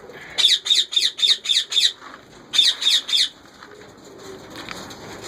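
Ringneck parakeet chicks squawking close by in a nest box: a rapid burst of seven sharp, shrill calls, a short pause, then three more, followed by faint rustling.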